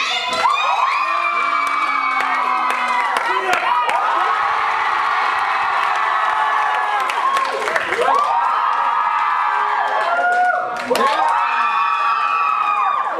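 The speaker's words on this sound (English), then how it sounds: "we're going to do it by crowd applause" A large school faculty-show audience applauds, cheers and whoops loudly and continuously, with children shouting among them, the roar dipping briefly a couple of times before swelling again.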